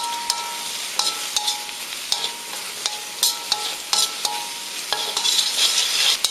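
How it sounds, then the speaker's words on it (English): Sliced onion stir-frying in a hot pan for a beef stir fry, a loud close sizzle broken by quick clattering stirs and scrapes of a utensil, with no voices. "we're just going to stir fry this for 2 minutes, just until it's just ever so slightly tender"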